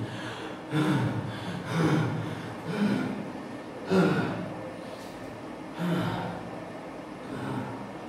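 A man imitating the heavy panting of someone out of breath after ten or fifteen minutes of football: a steady series of about seven loud, breathy gasps, each roughly one second apart, close to the microphone.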